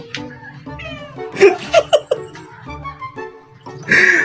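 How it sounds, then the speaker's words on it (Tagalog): A house cat meows several times in a kitchen, mixed with people talking and laughing nearby, with a louder, higher cry near the end. "Napakakulit talaga ng pusa na yun."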